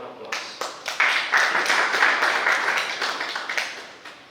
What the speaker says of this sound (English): So they do deserve a round of applause.